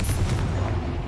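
A Confringo explosive spell from Hogwarts Legacy booms close and heavy, a short dense low-end blast filling the whole moment without pause.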